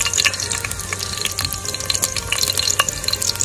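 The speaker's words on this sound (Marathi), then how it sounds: "कांदा आणि लसूण तिने त्याच्यामध्ये टाकलाय। आता ते त्याला व्यवस्थित पूर्ण कॅरेमल कलरचा होईल तोपर्यंत त्याला परतून आपण घेऊ।" Onion and garlic being sautéed in a pan outdoors on a farm, a busy sizzle with scraping stirs and clattering, fairly loud and close.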